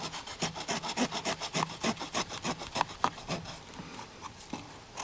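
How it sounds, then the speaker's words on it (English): Hand saw cutting a stop cut about an inch deep into a wooden branch at least half an inch thick, a steady run of about a dozen close rasping strokes that slow and soften toward the end. "Go down about an inch and we're gonna make a stop cut."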